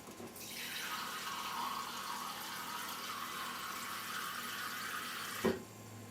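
Water pours steadily into a cooking pot, 3/4 cup added to a stew with burgundy wine and mushrooms, a continuous splashing stream lasting about five seconds that ends with a brief clunk, no voices.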